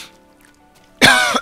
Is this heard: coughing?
yes